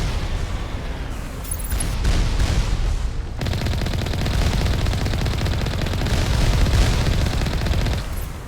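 Sustained gunfire in the video game Mass Effect, rapid automatic bursts and heavy shots forming a dense, loud continuous barrage.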